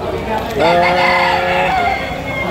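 Sweater Gilmore gamecock rooster crowing once loudly and close, a drawn-out call of about a second and a half, set among clucking and murmuring voices at a cockfighting arena in Padre Garcia, Batangas.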